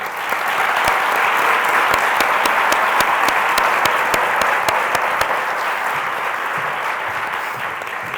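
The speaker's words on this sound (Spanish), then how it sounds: "Un aplauso para Valle." A book-presentation audience gives sustained, even applause to thank a woman named Valle for a gift, with many hands clapping steadily and a few louder individual claps punctuating the wash.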